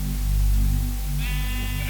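Sheep bleating in an old lost Minecraft version, a loud, close buzzy bleat over a constant droning background, with a brighter layered cry joining near the end.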